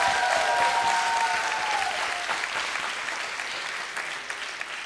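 A theatre audience at a comedy roast applauds steadily, dense sustained clapping filling the room at an even level, with a faint whistle near the start.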